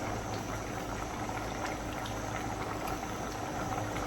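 Beans bubbling in a pot on a home stove, a steady soft simmering hiss with faint gurgles throughout, close and quiet, with no talking.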